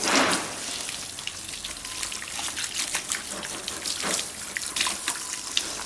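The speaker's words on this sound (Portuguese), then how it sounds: "Isso mostra a necessidade de enxaguar com água abundante." Water runs from a tap to rinse shampoo out of hair after a guanidine straightening treatment, a close, steady trickling splash with no voices.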